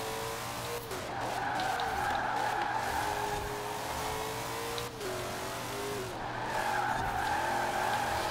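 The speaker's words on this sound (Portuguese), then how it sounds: "Mano, ele tá fazendo muito drift assim." A Ford GT40 drifts in Forza Horizon 4 with a sustained engine drone and long, wavering tire squeals that sweep up and down. Brief dips come as the skid breaks and resumes. The sound is steady and close, with no voices over it.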